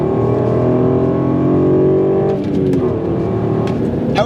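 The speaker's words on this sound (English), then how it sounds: "using a rev match, I can go from 6th to 3rd in a matter of seconds" Car engine revving hard through a rev-matched downshift from sixth gear down to third, a loud sustained drone whose pitch dips and then blips back up, steady and close throughout with no talk.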